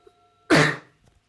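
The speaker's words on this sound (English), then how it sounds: "Sorry for coughing into the mic. It's probably loud." A single loud cough bursts close to the microphone, lasting about a third of a second, with quiet before and after.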